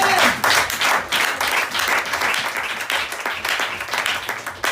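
A church congregation bursts into loud, sustained clapping and applause in praise of the Lord, with the rhythmic claps filling the room throughout.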